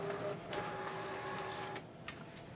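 An HP Officejet Pro X inkjet printer runs steadily in a hospital office, a quiet continuous mechanical whir with faint feed clicks as pages come out, no talking.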